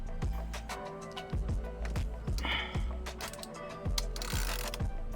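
A ratchet wrench with a 10mm hex bit on an extension clicks steadily while removing the center bolt of a car steering wheel being swapped for a custom yoke, a close, rhythmic mechanical ratcheting with short pauses between strokes.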